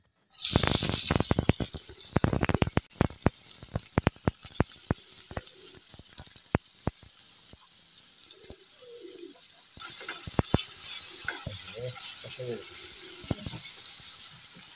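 Oil bursts into a loud sizzle as chopped onions hit the pan, then sputters with crackling pops before settling into a steady frying hiss.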